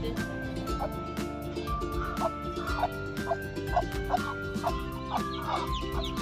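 Several backyard chickens cluck and murmur close by in a continuous, overlapping chorus, with occasional louder squawks and a background hum.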